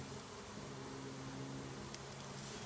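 Honeybees buzz around a newly installed beehive box on a farm, a dense, steady droning hum close by with no voices.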